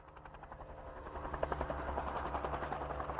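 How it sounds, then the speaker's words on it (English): A helicopter chases wild Mustang horses across the California range during a large wild horse roundup, its rotor thumping in a fast, steady chop that grows slightly louder, heard faintly from a distance with no talk. "A helicopter chasing wild Mustang horses across the California range."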